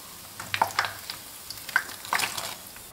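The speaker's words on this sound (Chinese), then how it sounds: "全程小火慢炸，不断翻面，炸至两边都呈这样的金黄色" Egg rolls fry slowly in oil over low heat, giving a steady soft sizzle with sharper crackles and pops spread across it.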